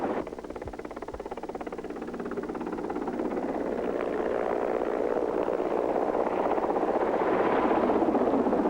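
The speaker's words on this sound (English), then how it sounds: "The helicopter was coming in to pick up a group of climbers. In order to land, it had to circle over base camp" A helicopter's steady rotor drone and engine whine, growing gradually louder as it circles over a mountain base camp to land, with no voices.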